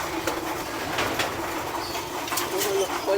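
Racing pigeons coo softly in a loft and aviary, a few low murmuring calls over a faint outdoor background hiss, fairly close and unhurried.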